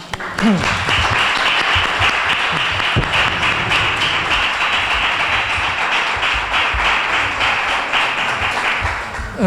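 Sustained applause from a lecture audience, dense and even clapping from many hands, loud and continuous for the whole stretch.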